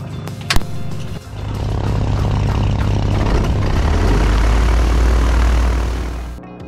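A 1952 Beechcraft Bonanza propeller engine cranks after a sharp click, catches and settles into a loud, steady rumbling idle that holds close and strong, then cuts off abruptly at the end.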